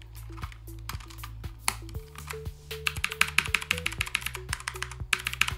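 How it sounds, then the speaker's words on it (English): Cherry MX Blue switch on a modular mechanical keyboard, with a keycap pressed back onto it: a series of sharp, close clicks and taps in an uneven rhythm, growing brighter and more clicky toward the end, no talk. "And then putting the keycap back on."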